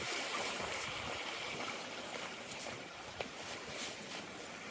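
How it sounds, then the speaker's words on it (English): A river flows steadily near an abandoned quarry, a constant broadband rush of moving water, faint and even throughout with no voices. "Just filming the river for a bit."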